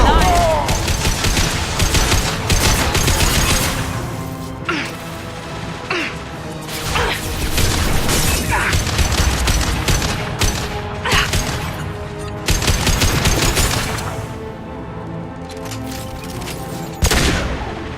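Video game gunfire from Mass Effect 2, with dense bursts of shots, crashes and booms repeating in loud, irregular volleys across the whole stretch, with voices speaking underneath.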